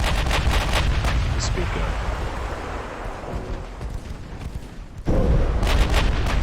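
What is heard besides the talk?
torpedo hit on a warship, Ultimate Admiral Dreadnoughts video game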